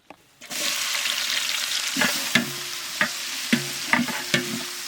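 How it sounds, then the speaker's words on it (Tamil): Oil heats in a pan on a village stove as cinnamon and other whole spices and onions go in, a sudden rising sizzle followed by steady frying with several sharp metallic spoon clanks and stirring, no talk. "இப்போ எண்ணெய் ஊற்றிக்கலாம் பட்டை வகைகள் போட்டுக்கலாம் அடுத்து வெங்காயம் போட்டுக்கலாம்"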